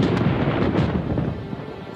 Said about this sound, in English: No, that was thunder. It means rain is on the way.